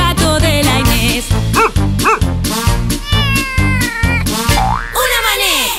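A cat's meow sounds within a bouncy children's song, with playful cartoon-like boings, barking and sung vocals over a loud, rhythmic beat.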